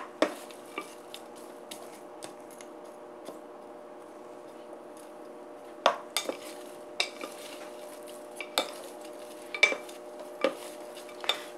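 Dried anchovies stir-fried in a frying pan give a faint steady sizzle, with a spatula clicking and scraping against the pan in irregular taps, louder strikes bunched toward the end.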